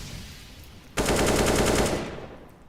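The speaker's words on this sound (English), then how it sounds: "There's that AK of ASAP." AK rifle in the Counter-Strike video game firing one loud, sustained automatic burst of about a second, rapid and even, then trailing off into quieter background sound.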